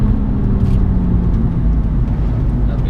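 BMW M135i engine pulling hard on the Nurburgring, heard from inside the car as a loud, steady low drone with road and wind rumble throughout.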